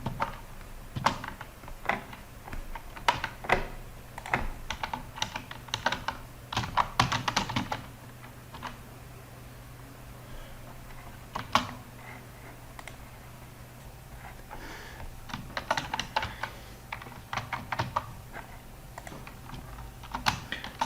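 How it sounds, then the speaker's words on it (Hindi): A name being typed on a computer keyboard while filling in an Amazon seller sign-up page: bursts of quick, close keystrokes with short pauses, slowing midway and then resuming in another run of clicks. "इधर हम भी कोई भी नाम टाइप कर लेते हैं"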